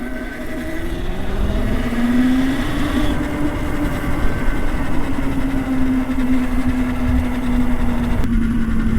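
A homemade street-legal electric motorcycle being ridden, a steady whining motor hum that rises slightly in pitch then holds, with wind and road rumble underneath, close and continuous.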